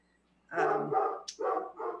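A pet dog barks indoors at home during an online elected officials' meeting, a close burst of about three sharp barks after a brief quiet start, with no talking over it.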